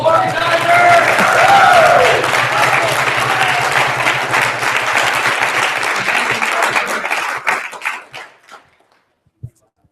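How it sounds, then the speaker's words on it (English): A tournament crowd gives the organizers a loud, sustained round of applause with some cheering, gradually thinning into scattered individual claps before fading out. "Can we get a round of applause for the organizers?"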